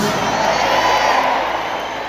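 A large crowd at an evangelical worship event in Goiânia, Brazil, shouts together, a dense loud roar of many voices held steadily for about two seconds.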